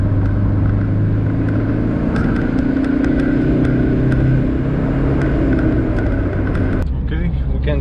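Ford Escort Express van engine pulling hard in third gear during a 40-to-100 acceleration run, a loud, steady rising drone with turbo boost under a speaking voice, cutting off near the end.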